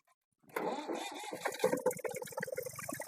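A farm tractor engine cranks over after a brief silence, then catches and runs with a rough, chugging idle, close and moderately loud.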